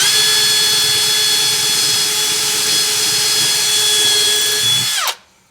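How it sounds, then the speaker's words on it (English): A power drill bores pilot holes through the floor of a Toyota Coaster bus, a loud steady whine held close for about five seconds before it cuts off abruptly. "So I'll just get the little pilot holes drilled first so I can see from above the floor where the holes need to go."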